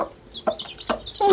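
Chickens clucking close by in short, separate bursts, a few quick clucks spaced across a brief moment and growing busier at the end, with no one talking.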